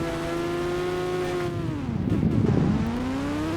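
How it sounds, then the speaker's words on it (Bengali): A fire-themed motorbike from the Indian Bike Driving 3D game revs steadily with a droning, harmonic engine note that dips and surges midway, with a rougher burst before settling back, loud and continuous with no talk. "দেখে ভাই আগুনের বাইকটা চলাই"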